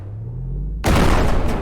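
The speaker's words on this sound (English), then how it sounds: "It's a very universally used explosion sound." A loud explosion in SteelRaven7's video game bursts suddenly after a low steady hum, a sharp, broad blast with a rumbling tail, close and with no voices.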